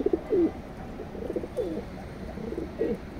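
Racing pigeons in a loft give soft, low cooing calls in short repeated bursts, close by against a quiet background.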